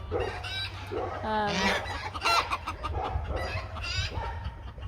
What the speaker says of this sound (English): It's not the ducky. It's a chicken.